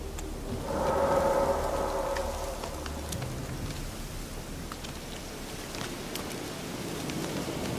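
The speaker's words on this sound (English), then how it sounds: "Looks like rain." In The Witcher 3 video game, steady rain hisses across the scene while a deep thunder rumble swells early on and fades after a few seconds, leaving the rain falling alone.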